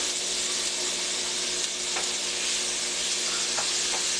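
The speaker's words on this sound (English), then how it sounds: "you're going to cook these till they sauteed to a translucent color" Minced garlic sautéing in a pot for shrimp fried rice, a dense, steady sizzle close by with a couple of faint stirring clicks, no voices.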